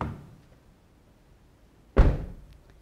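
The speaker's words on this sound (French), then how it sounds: "C'est ce que vous qualifiez de porte solide, et il en est de même avec la porte arrière." A 2012 Chevrolet Cruze door shuts with a single solid, dull thunk, preceded by a faint fading bump and quiet pause, the close slam decaying quickly.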